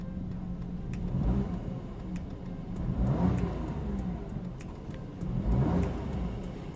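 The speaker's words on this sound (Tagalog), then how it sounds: "paparinig ko na yung guys, yung tunog ng makina" A 2025 Toyota Raize E CVT engine revs up three times, each rise swelling and falling back, loud and close with a steady mechanical whir underneath.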